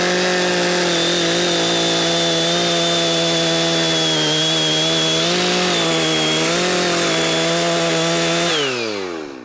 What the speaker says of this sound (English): I want to make sure my chainsaw bar is going through the tree parallel to the face cut